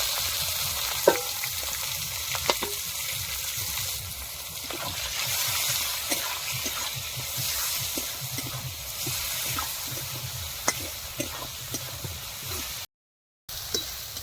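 Chopped onion sizzles steadily in hot oil in a pan, a continuous bright frying hiss with occasional stirring clicks and scrapes throughout, alone with no talk.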